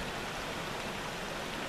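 A small creek flowing out of Lake Isabel gives a faint, steady trickling wash, soft and even throughout with no voices.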